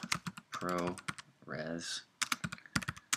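Typing on a computer keyboard to enter a preset name, quick clusters of key clicks close up, alternating with someone talking over the keystrokes.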